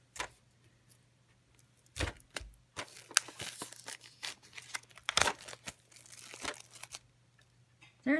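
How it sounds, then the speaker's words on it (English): Crinkling, tearing plastic wrap from colored pencils being unwrapped in irregular bursts, close by, with quiet gaps between handling noises and a low steady hum underneath. "So we'll open these. Oh, the plastic on them too. They're wrapped good."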